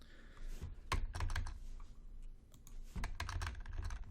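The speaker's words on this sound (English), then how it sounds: "Hit the wrong button on the keyboard." Fingers tap a computer keyboard in quick, uneven bursts of clicks, close and moderately loud, with a brief pause midway.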